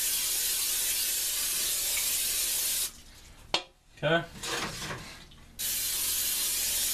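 Long hissing bursts from a spray can, loud and close, stopping for a few seconds while a person speaks briefly, then spraying resumes steadily.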